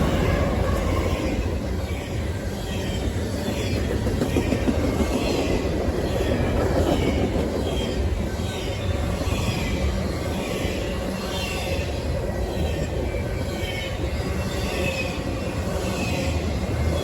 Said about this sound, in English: the thing that caught my eye about this train was a clean SD70 ACU in charge today